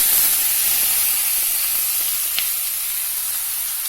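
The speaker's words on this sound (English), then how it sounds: "So to this ghee, once it starts fuming, I will add the apples and fry them a bit." Apples frying in fuming hot ghee, a loud, even, hissing sizzle that holds steady throughout with no voices.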